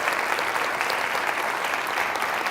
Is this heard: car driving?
no